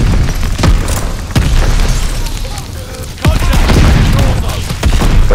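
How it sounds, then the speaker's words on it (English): Mortar shells exploding in a multiplayer shooter match, several loud booms with sharp onsets spaced a second or two apart, near and heavy, one big blast a little past the middle, under faint talk. "Watch out for that mortar."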